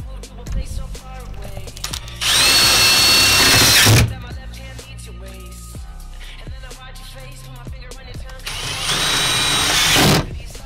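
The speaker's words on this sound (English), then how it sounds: "drill it in onto the hinges and then hopefully it clears" A power drill whirs in two loud bursts, driving screws into hinges of a fold-out bed in a GQ Patrol, with softer clanks and handling noises between them.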